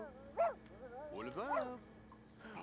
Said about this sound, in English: he's playing with the dog.